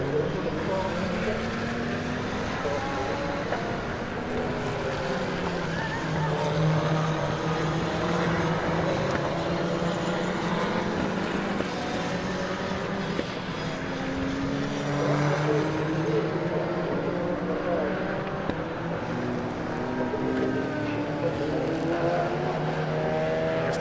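Race cars, including a McLaren and a number 60 Cupra, roar in a steady, dense drone around the Donington GP circuit during a 2021 endurance race, with engine tones rising and falling as they pass.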